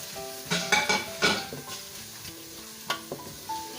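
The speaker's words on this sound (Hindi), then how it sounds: "इनको हम थोड़ा सा हल्का सा भूनेंगे ताकि हमारा मसाला ज़रा भून जाए" Ground spices hit a pan of fried ginger for a pumpkin and chana dal tarka, giving a gentle sizzle under a series of clinking, scraping stirs, several close together early on and a few more later.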